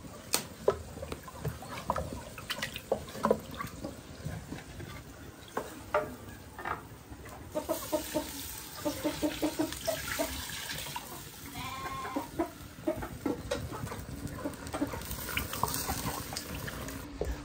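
Chile broth, the liquid left from grinding chiles on a metate, poured into mole poblano sauce, giving a sustained wet trickling and splashing with scattered clinks and stirring knocks, close and moderately loud, no talking.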